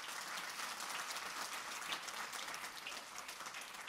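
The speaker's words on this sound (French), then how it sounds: "Est-ce qu'on peut applaudir le Seigneur qui nous soutient?" A church congregation at a Sunday service applauds together, a soft, distant wash of steady clapping that carries on evenly without talk.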